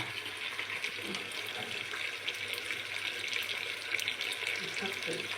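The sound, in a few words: pouring water into pot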